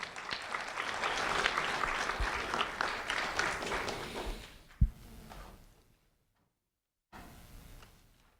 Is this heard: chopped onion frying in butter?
no